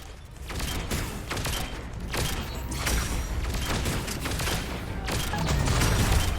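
A small gun fires repeatedly at a huge mech in Mass Effect 3. The rapid, loud shots come in dense bursts over a rumbling background with mechanical clatter.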